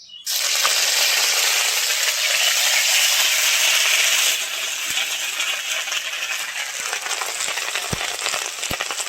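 Spices sizzle and rattle as cumin seeds, bay leaf and ginger paste are stirred in hot oil in a frying pan, a loud steady fry that eases slightly partway through, with a few soft scrapes near the end.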